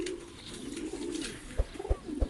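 A homing pigeon coos close by in low, soft throaty rolls, followed by a few deeper rhythmic pulses near the end, with light background noise.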